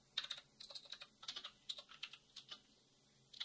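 Quiet, close tapping of keys on a computer keyboard as a command is typed, with irregular clusters of clicks and brief pauses between them.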